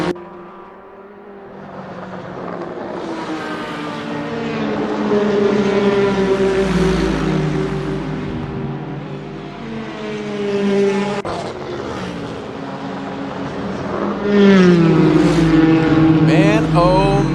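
Race cars in an IMSA sim-racing round at Mosport Park roar past one after another through traffic, their engine notes rising and falling with loud, close passes and a sharp surge near the end.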